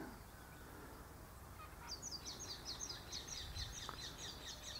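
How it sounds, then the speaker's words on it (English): Outdoors in a capeweed-covered field, a run of rapid honking bird calls rises faintly over soft wind and ambient hiss, repeating in a quick, even series. "And the birds are singing,"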